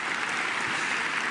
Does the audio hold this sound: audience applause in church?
yes